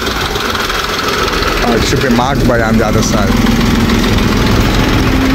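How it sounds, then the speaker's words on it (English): A Sri Lankan tractor engine idles with a steady, loud, chugging drone. Voices talk over it partway through. "That's a Sri Lankan tractor, eh?"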